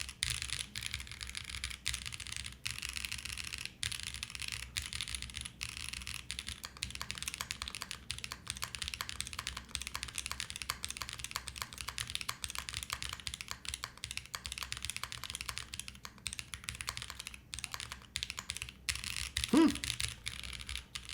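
Steady typing on a gasket-mounted mechanical keyboard, a continuous flurry of soft, fairly light keystrokes at close range for a long stretch, with a faint bump near the end.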